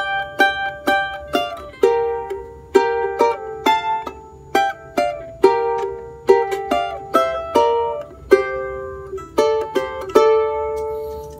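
A charango plays a phrase of a song, with bright plucked and strummed notes in an even rhythm, each attack decaying quickly. The instrument is close and clear, with no talking over it.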